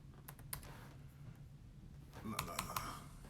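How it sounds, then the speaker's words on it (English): Keys tapped on a computer keyboard, a few scattered clicks early on, then a short quicker burst of typing near the end, close by over a steady low background hum. "Big fingers typing in."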